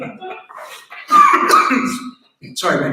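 Coughing and throat clearing from a person at a biotech center meeting, several close, harsh bursts with pauses between them, mixed in with nearby speech.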